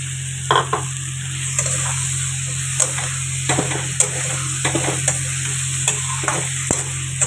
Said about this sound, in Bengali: এবারে ভালো করে মশলাটা কষিয়ে নিলাম।